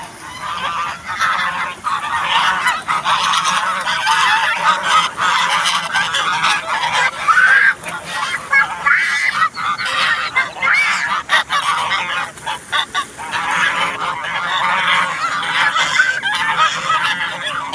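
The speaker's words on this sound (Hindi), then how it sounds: "तो ये आवाज़ है, जल मुर्गी बोलते हो यहाँ" Water hens honk and call repeatedly, a busy chorus of nasal cries rising and falling over several seconds, fairly close and loud, in Dubai.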